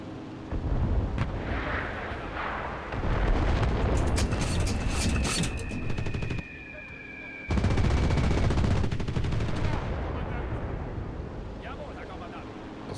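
Bombing in the video game Enlisted: heavy booming blasts and rumbling explosions in repeated bursts with gunfire crackle between them, someone talking over parts of it.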